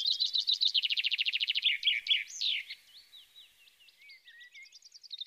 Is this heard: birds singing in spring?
yes